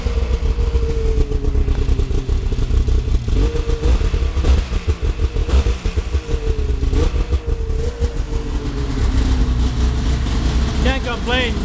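An old 800 three-cylinder triple motorcycle engine idles close by with a steady, loud, uneven throb. Someone talks over the running engine.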